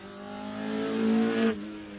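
Chevrolet Chevette rally car at a junior spring rally driving past, its engine note swelling to a loud peak then cutting off abruptly as it moves away.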